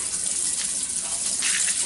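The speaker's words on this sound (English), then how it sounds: "it flings water all over in the black tank" Water sprays hard from a rinse wand inside an RV black waste tank, a steady close hiss and gush that barely changes over a couple of seconds.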